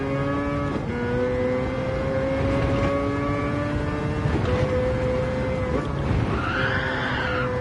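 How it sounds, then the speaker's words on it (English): A drift car in Gran Turismo 7 slides with sustained tire squeal over a droning engine, the skid tone shifting pitch as it holds the slide, loud and continuous for several seconds with no talk. "This is a proper drift car."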